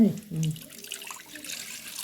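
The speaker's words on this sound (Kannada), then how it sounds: "ಉಪ್ಪು ಕರಗ್ಲಿ ಅಂತಂದ್ರೆ ಸ್ವಲ್ಪ ನೀರು ಹಾಕತ್ತಾರೆ" Water splashes and runs briefly into a bowl of bread pakoda batter, loudest at the start, then fades into soft trickling with a quiet background murmur.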